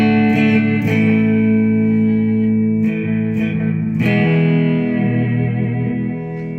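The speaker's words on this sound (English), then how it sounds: "For delay, we have a way huge Aquapus." Sustained electric guitar chords through a Way Huge Aquapus delay pedal, ringing with repeating delayed echoes that trail behind each strum, loud and washy throughout.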